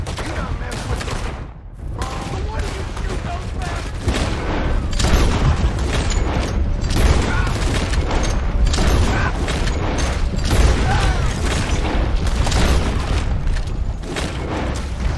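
A loud, sustained shootout during a coach robbery in Red Dead Redemption 2, dense repeated gunshots and heavy booms overlapping with rumbling hoofbeats and wheels, with occasional shouting voices.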